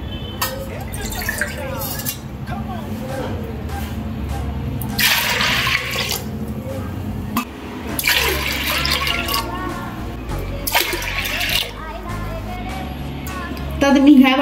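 Water is poured onto washed dal in a pressure cooker for puran poli, coming in several splashing, gushing bursts with a few clinks and pauses between them, with a voice nearby.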